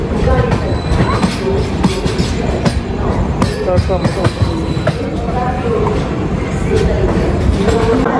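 A train rumbles steadily along the tracks, close and loud, with occasional rhythmic clacks and faint voices in the background.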